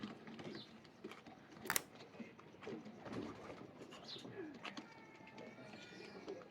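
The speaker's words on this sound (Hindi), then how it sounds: "बहुत प्यारा कबूतर है ये।" Soft cooing from a golden pigeon repeats among other bird calls at a pigeon show, with a brief sharp click midway and faint background voices now and then.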